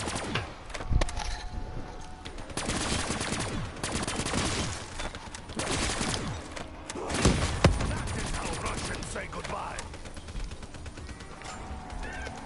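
Gunfire in Call of Duty Zombies on The Giant map, with repeated bursts and scattered shots at a steady moderate level, mixed with game noise and some talking.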